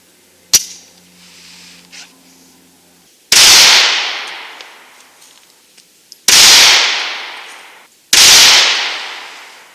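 Three loud, sharp pistol shots from a compact Colt Mustang XSP fired at a 25-yard range, each followed by a long decaying echo, spaced a couple of seconds apart after a single earlier crack.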